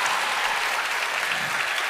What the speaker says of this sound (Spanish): quiero que les despidamos con otro fuerte el aplauso